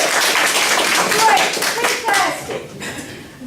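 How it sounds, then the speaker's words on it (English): An audience gives a round of applause with a quick patter of clapping hands that thins out toward the end, while a voice speaks briefly over it. "Would you all mind helping me give them a round of applause for doing that?"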